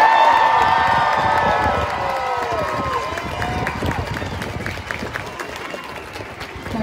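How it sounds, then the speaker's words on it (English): An outdoor amphitheater concert audience applauding and cheering loudly for the band and crew, whistles and shouts rising over dense clapping that slowly thins out. "Can we give my band and crew a huge round of applause again?"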